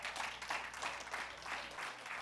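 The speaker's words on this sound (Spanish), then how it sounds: "Den un aplauso a Cristo" Church congregation applauding during a Spanish-language worship service, a steady dense wash of clapping that holds throughout without pause.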